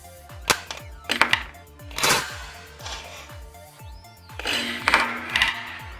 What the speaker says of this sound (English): Pull back your plunger. We're set to press the red button on the back to fire.